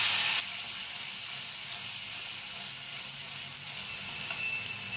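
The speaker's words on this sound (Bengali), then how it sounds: "আমি একটা টমেটো বাটা দিচ্ছি" Tomato paste hits a hot pan while katla fish curry is being made, letting out a sharp initial hiss that settles into a steady, close sizzle lasting several seconds.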